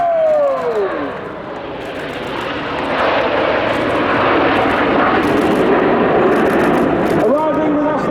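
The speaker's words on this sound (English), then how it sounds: "Arriving with our famous red, white and blue over 400 miles per hour." Red Arrows display jets arrive at the RIAT airshow with a loud, sustained jet roar that swells and holds, a pitch-sweeping whine at the start and again near the end, and a commentator talking over it.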